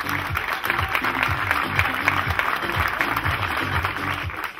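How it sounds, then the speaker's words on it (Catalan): An audience at a motorsport team's 24-hour race event applauds a rider being honoured, with steady clapping under a rhythmic thumping music beat and some crowd murmur. "Un fort aplaudiment, sisplau, per David Darnés"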